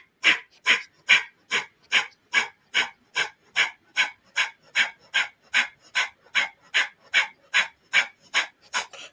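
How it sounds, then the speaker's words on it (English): Breath of fire, the rapid Kundalini yoga breathing exercise: a steady train of about twenty quick, forceful nasal exhales, evenly paced roughly two per second, close and loud, with no talking over it. "Just to start, breath of fire."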